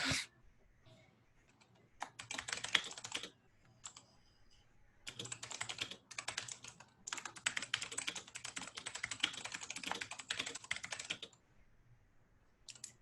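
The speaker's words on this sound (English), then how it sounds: "How fast you're typing is giving me anxiety." Rapid, continuous clatter of computer keyboard typing in long bursts separated by brief pauses, close and fairly quiet.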